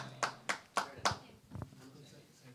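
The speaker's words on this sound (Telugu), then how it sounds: "చప్పట్లు కొడదామండి అందరూ." Hands clapping at a Christmas church service, four sharp claps spaced about half a second apart, then a short fainter double clap, with a murmur of voices and room noise beneath.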